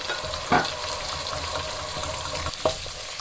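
Whole nigella, mustard and fennel seeds, with dry ginger, roast in a pan, giving a continuous soft crackle and sizzle with two brief louder scrapes of stirring.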